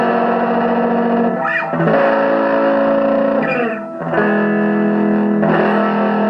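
An electric guitar through an Orange Micro Crush amp rings out in sustained, gritty 60s-70s style overdriven chords, loud and continuous, with brief gaps where the strummed chords change.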